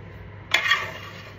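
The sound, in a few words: beef sizzling as it is added to butter in a pan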